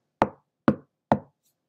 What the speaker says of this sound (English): One day, our neighbor, Mrs. Brown, knocked on our door.